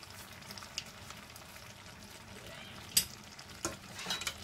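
A spoon stirs potato-pea curry in a karahi just after a chicken stock cube goes in, a faint low scraping and soft sizzle with a few sharp clinks of utensil on metal.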